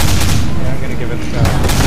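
Loud, dense gunfire in the multiplayer shooter Nuclear Dawn, continuous overlapping shots and bursts filling the moment without a break.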